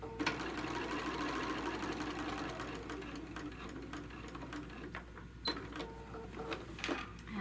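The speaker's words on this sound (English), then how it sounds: "And then we're going to stitch across the top." Sewing machine stitching across the top of a fabric tote bag made from a printed panel, a steady continuous whirring drone with a few faint clicks and no talk.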